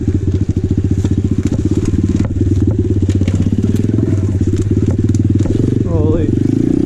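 An Apollo RFZ 125cc pit dirt bike, recently flooded and hard to start, runs close and loud with a rapid, even popping engine pulse, then rises briefly into revving near the end.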